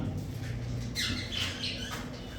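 A pair of cockatiels in a cage give a few harsh, scratchy squawks over a steady low background hum, with nobody talking.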